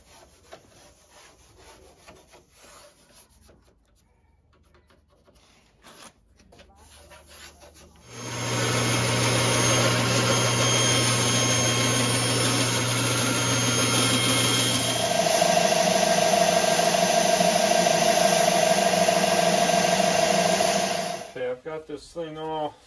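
Abrasive rasping on wood runs loud and continuous for about thirteen seconds while shaping a straight-limbed hill style longbow, preceded by quieter handling and soft talk.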